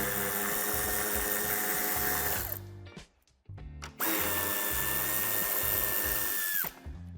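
A power tool spins off the nuts holding a BMW 6 Series GT tail light: a loud, steady high whine runs, briefly cuts out and revs again, then stops near the end, close up.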